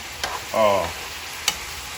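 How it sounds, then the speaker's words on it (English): Turkey necks fry in a non-stick skillet with a steady sizzle, broken by a short scraping stir and a couple of sharp clicks from the utensil against the pan. "you see all the steam coming off it now, and you hear the frying method going"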